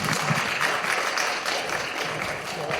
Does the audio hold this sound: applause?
yes